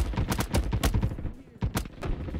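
Rapid bursts of gunfire in a Roblox shooter game crackle in quick clusters of sharp, loud shots with short gaps between volleys.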